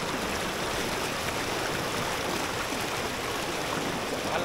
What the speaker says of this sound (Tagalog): hindi ko na hininaan yung tunog ng tubig dito kasi gusto nyong marinig